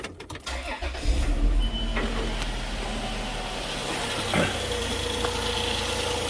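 A car engine cranks and catches after a few clicks, then settles into a steady idle hum with faint mechanical whine, after an alternator replacement.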